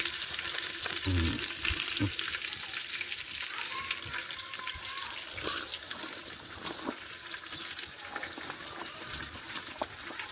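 Onions and curry leaves frying in oil for a home-style biryani, a steady broad sizzle with occasional stirring scrapes and clinks, close and continuous throughout with no talking.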